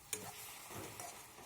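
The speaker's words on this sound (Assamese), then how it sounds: "এতিয়া ইয়াতে এড কৰিম আমি সৰিয়হ পেষ্টখিনি আৰু এইখিনি আমি ভালদৰে লৰাই লৰাই ভাজি থাকিম।" Mustard paste and okra fry in a pan while being stirred, with faint scraping strokes and a soft, low sizzle close by, with no talk.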